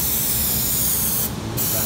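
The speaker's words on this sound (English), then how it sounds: "Now we're spraying the back edge." Steady aerosol spray hissing continuously at close range onto the back edge of vinyl in a 1967 Ford pickup interior, with a brief dip in the high hiss partway through.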